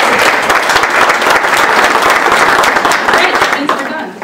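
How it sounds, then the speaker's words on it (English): Loud, dense applause from an audience at a workforce policy conference, many people clapping steadily and close for a few seconds before it begins to taper off. "Hear that? We got applause."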